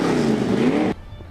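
A 1929 Ford Roadster engine revs loud and close in a steady, rough roar for about a second, then cuts off abruptly, leaving only a faint low rumble.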